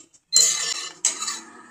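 A pot and metal utensils being readied in a home kitchen while making haleem, heard as two close, bright clattering bursts of metal on metal.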